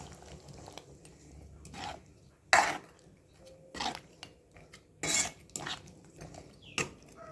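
Intermittent clanks and scrapes of a spoon against a metal pot of Chettinad chicken gravy, a few separate stirring bursts with quiet gaps between, close by.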